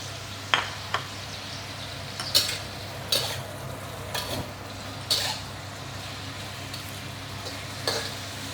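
Vegetables and shiitake mushrooms are stir-fried in a wok, with periodic scraping stirs and spatula clinks over a low, steady sizzle and kitchen hum, close and moderately quiet.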